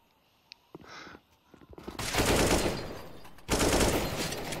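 Rapid automatic gunfire in the CS:GO video game during a match, quiet isolated shots at first, then two long loud sustained bursts of fire in the second half.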